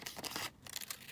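Scissors trimming the edge of a paper sheet for a collage on a folio page, a short run of close, crisp snipping and cutting sounds with no speech.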